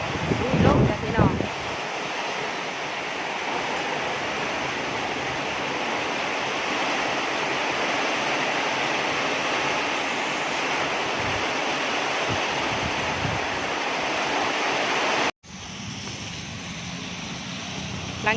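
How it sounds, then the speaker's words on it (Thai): Strong gusting wind after a heavy morning downpour that flooded the area, a loud steady broadband rush roaring almost without pause, with a brief dropout near the end before resuming. "ลมจ้ะพี่น้อง"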